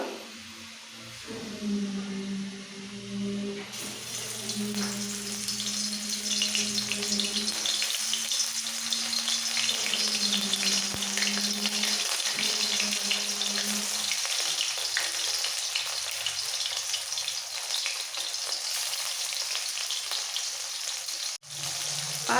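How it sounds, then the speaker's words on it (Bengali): Lote fish pieces fry in hot mustard oil over low gas: a loud, continuous close sizzle that swells once the pieces go in, with a faint background hum early on. "একটা একটা করে মাছ ছেড়ে দেবো ভাজার জন্য"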